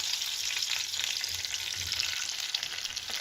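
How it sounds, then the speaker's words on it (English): Bread frying in rendered pork fat in a pan, a steady close crackling sizzle that runs unbroken throughout with no voices. "put that pork fat and then put one of the side of the bread on that pan to soak all the flavor from that pork fat"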